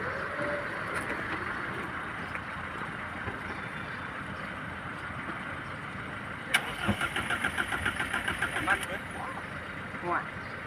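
A car cranking and catching to a rough start beside the road after an accident where it left the road and hit a power pole, a rapid pulsing engine burst over steady background noise with voices nearby.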